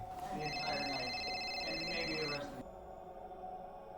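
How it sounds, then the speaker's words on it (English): A telephone rings as a sound effect in a narrated story: one electronic ring tone held for about two seconds over a quiet background murmur, then cut off. "It was only a few minutes later that his phone rang."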